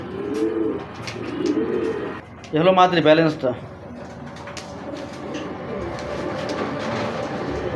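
Black-eyed marble-eyed pigeons coo in repeated throaty rolls, with a loud close burst in the middle, while someone speaks over them.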